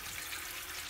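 A glass of water pours into an electric kettle, a short, quiet, steady trickle and splash close by, with no voices.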